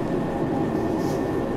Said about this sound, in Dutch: Toch maakt die trein best wel veel herrie,